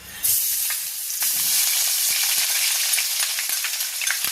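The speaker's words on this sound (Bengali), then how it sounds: "এবার আমি পেঁয়াজটা দিয়ে দিচ্ছি।" Onion going into hot oil already seasoned with whole garam masala, for a home-style duck egg curry. A sudden loud sizzle bursts in and carries on steadily, close by, with light stirring taps.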